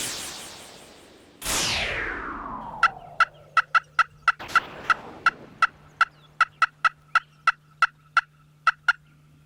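A wild turkey gobbles loudly and nearby, followed by a long run of sharp, evenly spaced calls or clucks over steady outdoor background noise, with no voices.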